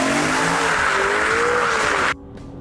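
A BMW M3's engine roars loudly as its tires squeal in a long sustained sideways skid, ending abruptly, with no one speaking.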